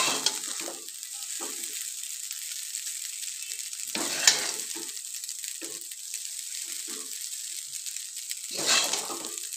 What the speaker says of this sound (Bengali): একটু একটু করে আমি চাউমিন দিচ্ছি আর এর সাথে আমি সবজিগুলো মিশিয়ে নিচ্ছি